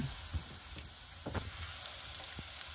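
Garlic frying in a pan while cooking pancit canton, a soft, continuous sizzle with small crackling pops, heard close and alone.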